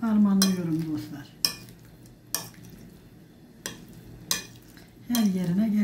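Food being stirred in a frying pan, with a gentle sizzle beneath several distinct utensil scrapes and knocks against the pan, spaced a second or so apart, close by; a tonal voice-like sound frames the start and end.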